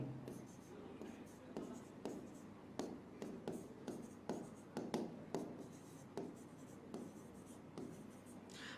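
Marker or chalk writing on a board during a classroom finance lesson, a series of quick scratchy strokes in irregular bursts, fairly close, with faint speech in the background.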